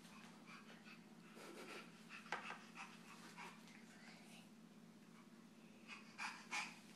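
A child imitating a dog panting during night-time picture-book reading, soft rapid breathy huffs in bursts, close and quiet against a low room hum.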